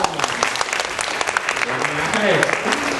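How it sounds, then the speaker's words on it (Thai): A crowd claps loudly for a few seconds, a dense patter of many hands, with a voice calling out over it. "น้องออมขอเสียงปรบมือดังๆ"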